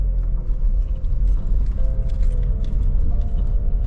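Honda CR-V 4x4 pulling away, a loud low rumble of the engine and drivetrain with a steady mechanical hum and a rising tonal whine partway through, close up and without speech.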